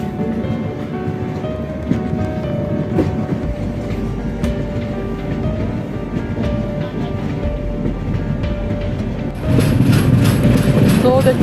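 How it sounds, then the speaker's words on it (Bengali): The new Delhi–Balurghat train pulls out of Balurghat station with a loud, steady rumble of wheels and carriages that grows heavier near the end, and faint voices sit underneath. "এই যে ট্রেনটা এটা কিন্তু ছেড়ে দিল"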